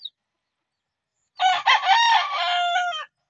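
An asil gamecock rooster crows once, loud and close, a single drawn-out call after a brief silence.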